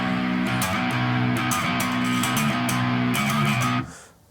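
Heavy distorted electric guitar repeating a metal riff, tight rhythmic chugs and stabbing chord hits played loud with no voices, ending in a sudden stop.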